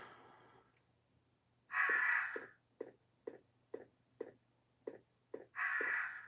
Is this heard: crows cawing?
yes